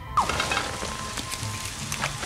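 Steady hissing patter of rain conjured to douse a fire in Scribblenauts Unlimited, a soft continuous wash with a light sizzle throughout and a small magical chime at the start.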